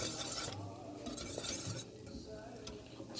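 Roux being whisked into Thanksgiving turkey gravy in a pot: a continuous brisk whisking swish with faint bubbling and light metal clinks, close and quiet.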